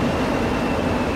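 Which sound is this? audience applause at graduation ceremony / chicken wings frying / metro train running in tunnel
metro train running in tunnel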